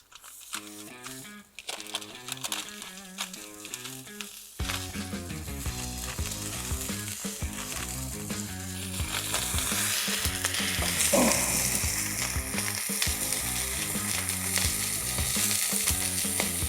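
Smash burger patties, seasoned with salt, hit a hot griddle and are pressed flat with a heavy smasher, bursting into a loud, close, continuous sizzle with scraping and clatter of the press.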